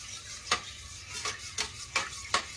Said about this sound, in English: we want to put in a little milk in this pan. And stir it around.